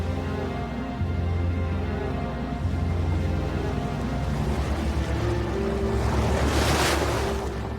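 A boat heading out across Atlantic waves toward Queimada Grande, with steady engine hum under rushing water and wind buffeting, and a louder surge of spray near the end.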